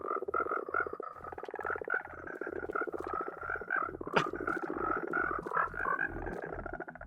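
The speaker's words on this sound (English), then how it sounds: "What you're hearing is one of my friends here on the server spawning in like 1 million frogs right around" A huge swarm of Minecraft frogs spawned all at once on a multiplayer server croaks in a dense, rhythmic chorus, loud and continuous, with one sharp click near the middle.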